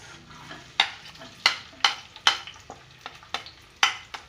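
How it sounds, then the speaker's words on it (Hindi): Onion frying in hot oil for kadhi pakora, a soft low sizzle broken by a series of sharp, regular spoon clacks against the pan as it is stirred. "प्याज मुझे बस थोड़ी सी सॉफ्ट करनी है"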